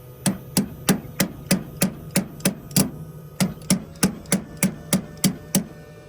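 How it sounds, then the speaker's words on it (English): A hammer strikes a loose car battery terminal on an Impala, a run of about fifteen sharp, evenly spaced metallic taps in quick steady rhythm, close and clear with no voices. "Just hammer it down."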